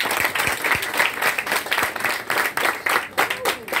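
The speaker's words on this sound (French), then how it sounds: "je vous demande d'applaudir très fort, les amis" A school audience applauds the third-year classes before a student debate, sharp individual claps standing out over a busy crowd wash, with voices mixed in throughout.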